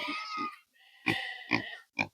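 Farm pigs grunt and oink in a series of short, close bursts with brief pauses between them, fairly loud and uneven in rhythm.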